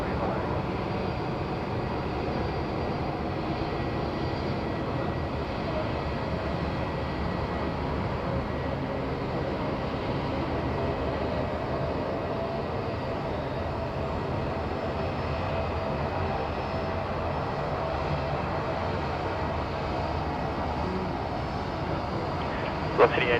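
A passenger aircraft takes off at Sydney Airport, producing a sustained broadband engine roar from a distance, steady throughout with a faint tower radio voice in the background.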